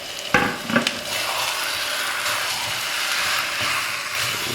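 Chicken debal with potatoes sizzles steadily in a pan, with a couple of sharp scraping stirs near the start over a continuous close frying hiss.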